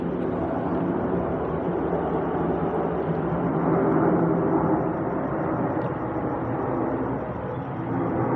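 Low-flying airplane passing over a house roof, a steady broadband engine roar that stays loud and sustained throughout, with no talking.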